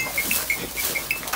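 A ewe in Bulgarian livestock keeping, just after giving birth to a lamb, gives short repeated bleats, about six brief calls spread over a second and a half, near and moderately loud over faint background noise.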